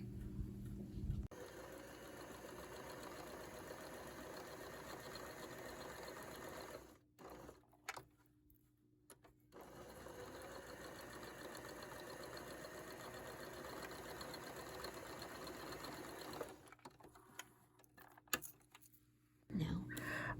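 Sewing machine stitching a boho bag, running steadily and fairly loud for long stretches, pausing briefly around seven seconds and again near the end.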